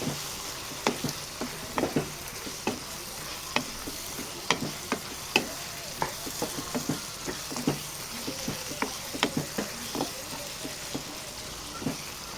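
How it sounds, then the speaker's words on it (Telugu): Repeated scraping and clinking of a spoon stirring chicken curry with garam masala in a pan, with a steady sizzle underneath; close and fairly loud, no voices. "వేసాక ఒకసారి కలుపుదాం."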